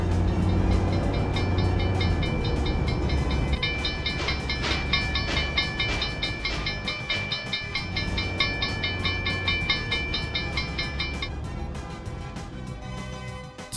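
A train rumbles past close by at a railway level crossing with steady clattering wheels and a sustained ringing tone over the noise, loud throughout.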